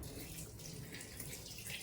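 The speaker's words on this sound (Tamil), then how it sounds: "சூடாக இருக்கிற தண்ணி 2 பக்கமும் திரும்பவும் ஊற்றி விட்டு நல்லா க்ளீனாக இருந்துச்சு" Hot water poured over a greasy kitchen chimney filter, a continuous close splashing stream like a running tap, steady throughout with no talking.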